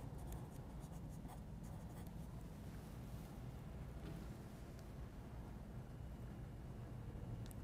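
Chalk or marker writing on a board during a mathematics lecture, steady scratchy strokes with brief taps, fairly quiet over a constant room hum, no one speaking.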